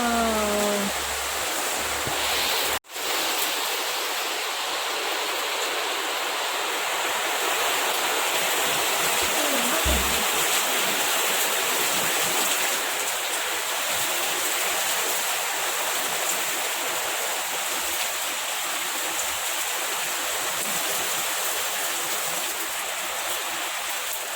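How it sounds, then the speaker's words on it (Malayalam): Heavy rain pours down in a dense, loud, continuous hiss, steady throughout with a brief dropout near the start. "നല്ല മഴയാണ് വരുന്നത്"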